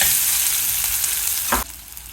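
Chopped onion with cumin and a pinch of asafoetida fries in hot oil for chana masala, making a loud, close, continuous sizzle. A brief stirring knock comes near the end, after which the sizzle drops quieter.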